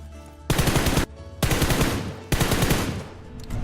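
Rapid automatic gunfire in PUBG Mobile comes in three loud, close bursts separated by short pauses, each a dense stream of shots, with no talking.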